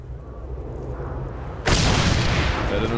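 A single loud, sharp sniper rifle shot in a video game (Mad Max) cuts in abruptly after a quiet stretch, followed by a sustained booming rumble and ringing tail.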